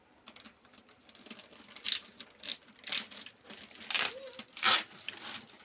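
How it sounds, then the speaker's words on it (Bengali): An elastic strap being pulled off a boxed RL4600 amplifier, giving close crinkling, scraping and tearing bursts in uneven clusters, with faint talk between the sounds. "ইলাস্টিকটা খুলছি"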